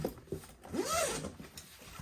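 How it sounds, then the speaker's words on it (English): A zipper pulls around the body of a camera-style everyday-carry bag in one smooth, close, continuous zip that rises and then trails off, heard alone. "So to get into it, you zip, the zipper goes all the way around."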